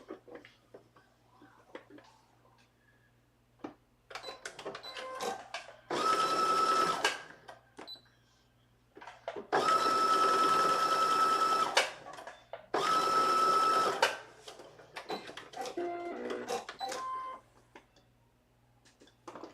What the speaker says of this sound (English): we're gonna do this at the bottom and sew that across